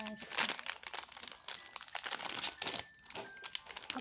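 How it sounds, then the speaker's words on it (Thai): Close crinkling and ripping of a single-serve espresso coffee packet being torn open, a quick series of papery crackles with a voice talking over part of it. "ทีนี้เราก็มาฉีกกาแฟ"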